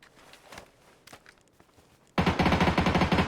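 Rapid suppressed gunfire from PUBG, a tight burst of evenly spaced muffled shots that starts abruptly after a few quiet footstep-like taps and keeps going loudly to the end.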